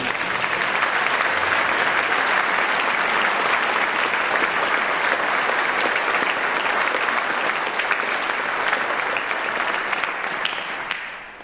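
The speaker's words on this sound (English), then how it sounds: "Let's give them a big round of applause." A long, dense round of applause from the audience at a high school academic scholar night honoring student award recipients, steady and full for most of its length before fading at the close.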